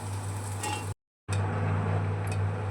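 Bitter gourd pieces sizzle steadily in hot oil in a pan, a close, continuous crackle with a steady low hum, briefly cut to silence before the frying resumes.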